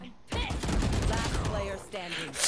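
Rapid bursts of gunfire from the video game Valorant rattle loudly through the middle of the clip, fast repeated shots under brief voice chatter from players.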